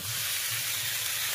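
Onions fry in hot oil in a home kitchen, giving off a steady, close, dense sizzle that holds without a break and has no voices over it.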